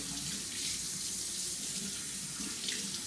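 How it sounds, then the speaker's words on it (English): Water runs steadily from a tap while hands are washed under it, a constant close rushing splash with no talking, after handling raw pork during smoker prep. "I'll wash this off real quick. Get my hands completely clean."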